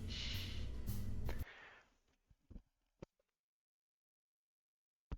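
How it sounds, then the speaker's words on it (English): A person sneezes close to the mic, a loud, breathy burst lasting over a second during space-flight game commentary, followed by a few faint clicks and near silence. "Oh, excuse me, I was sneezing."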